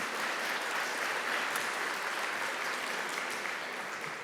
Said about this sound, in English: we give you a big round of applause and let you go